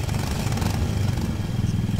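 A go-kart engine in the Arma 3 Altis Life game sputters into life, a steady low rumbling idle with some clatter, close and continuous throughout.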